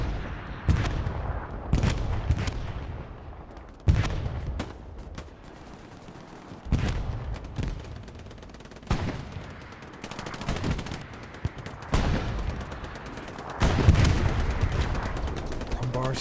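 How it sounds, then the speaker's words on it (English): Bursts of automatic gunfire from a strafing run in a WWII D-Day video game, several loud rapid volleys separated by short pauses, with a voice talking over parts of it. "Oh, strafing run."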